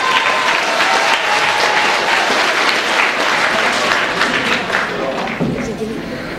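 Theatre audience applauding: loud, sustained clapping from a full house, dense and continuous with some thumps, easing slightly toward the end, with voices mixed underneath.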